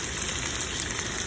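Chicken for caldereta fries in a pan, giving off a steady, dense sizzle and crackle at an even, moderate level throughout.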